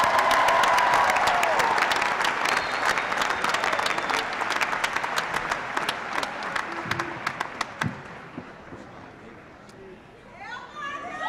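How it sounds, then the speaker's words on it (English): Graduates of an engineering college are applauded at a university spring commencement; a large crowd's steady clapping rings out with scattered louder claps, then tapers off into quieter murmurs and a brief voice near the end. "A round of applause for the Tagliatelle College of Engineering graduates."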